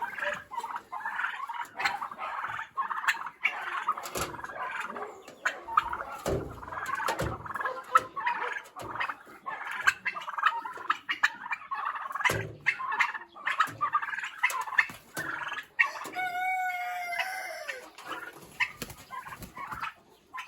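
Turkeys in a roomy enclosure fill the air with chattering, pattering calls. One rolling gobble stands out near the end, with the flock fairly close throughout.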